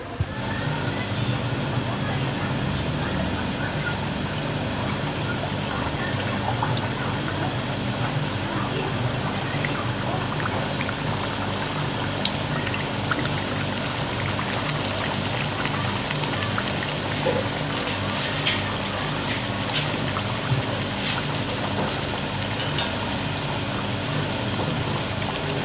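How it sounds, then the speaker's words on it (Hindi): Stuffed potato kachori frying in hot oil over a medium flame, a steady dense sizzle and crackle that continues evenly throughout at close range, with no break. "तो अब हम इसे ऑयल में फ्राई करेंगे।"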